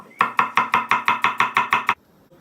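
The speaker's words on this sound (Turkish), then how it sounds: "Soğanlarımızı çok ince doğrayacağız." Knife chopping onions very finely on a cutting board for a Turkish chicken and orzo pilaf: about ten quick, evenly spaced crisp chops close up, then a brief quiet pause.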